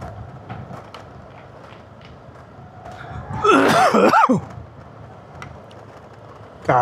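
A person coughs in one short, rough burst mid-way, with quiet road ambience around it, while out riding on Tanay Sampaloc Road past mountain windmills and feeling unwell.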